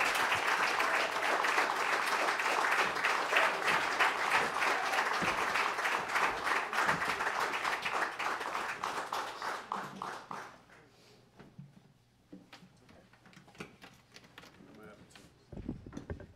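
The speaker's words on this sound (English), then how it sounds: "just keep clapping until we're totally ready" An audience in the small Caffe Lena venue gives a warm welcome to a folk singer, with steady, full applause that thins out and fades to scattered claps near the end.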